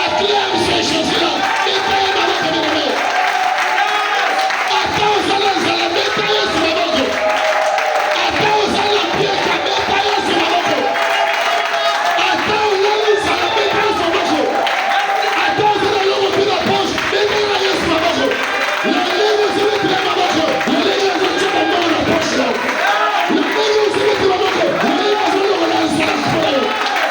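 A large church congregation cheers, shouts and claps in acclamation of Jesus, a loud, continuous crowd roar that runs unbroken throughout, with voices and applause blending together.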